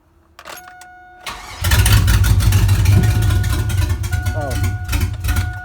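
A junkyard 5.3 engine fitted in a 1955 Buick Special cranks briefly, then catches and runs loudly with a steady rumble. Talk is heard over it.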